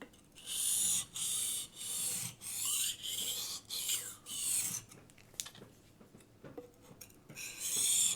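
A knife blade is sharpened by hand on a diamond stone in a steady run of about nine rasping strokes, each a bright scraping sweep with short gaps between, close and clear, then a few lighter scrapes and small knocks.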